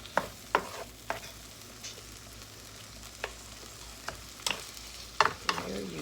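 Tomatoes cooking for chicken afritada make a faint sizzle in a pan, with occasional sharp scrapes and clinks as a utensil stirs them at irregular intervals.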